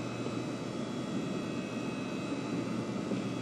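Space Shuttle Atlantis main engines during ascent after liftoff, a steady, dense broadband roar with a constant low rumble that holds unbroken at moderate level throughout, with no voices.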